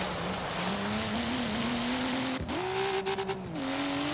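Nissan Skyline GTR engine in the racing video game Forza Horizon 3, a steady droning exhaust note that dips briefly, then climbs again with a few quick throttle blips, moderately loud and without talk.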